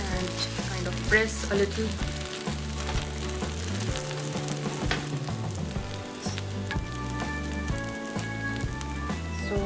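A vegetable uttapam frying on a pan just after being flipped, a steady crackling sizzle over rhythmic background music, with a brief spoken remark partway through.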